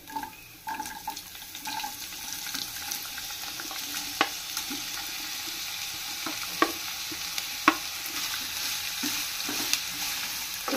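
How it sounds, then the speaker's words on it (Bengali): Vegetables sizzle steadily in a pan with fried garlic and ginger, alone and fairly close, with a few sharp scraping clicks as they are stirred. "রসুন এবং আদা একটু ভেজে নিয়েছি। এখন আমি এর ভিতরে সবজিগুলো দিয়ে দেবো একে একে।"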